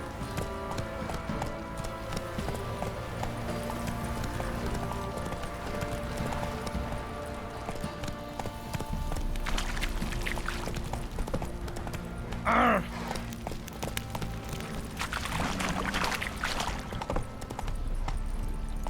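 Horse hooves gallop in The Witcher 3 video game in a continuous rhythmic clip-clop under game music and ambience, with a louder stretch in the middle. No one speaks over it.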